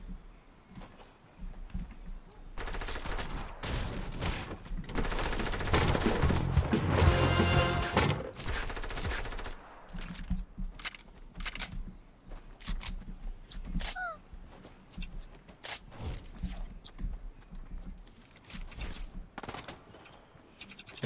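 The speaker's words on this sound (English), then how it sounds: "Somebody's shooting at me." Gunfire in a battle royale video game, with bursts of rapid shots and a dense, loud volley in the middle, then scattered single cracks.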